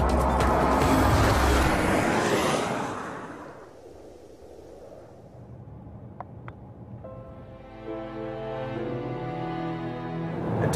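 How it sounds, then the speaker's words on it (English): A 2013 Bentley Mulsanne runs flat out near 190 mph across a salt flat: a loud rushing roar of wind and engine fades into a lower drone, then a rising engine note with strong harmonics builds again. "This car's approaching 190 miles an hour."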